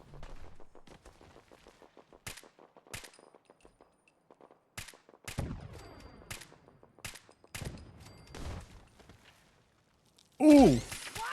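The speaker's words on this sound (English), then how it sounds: "These stupid turrets." Automated turrets fire repeated rapid bursts in Fallout 4, staccato shots clustered in uneven volleys with metallic clanks and short pauses, ending in a loud sharp blast.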